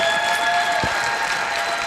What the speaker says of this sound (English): Let's give a big round of applause to Peyton Harder on her great accomplishments.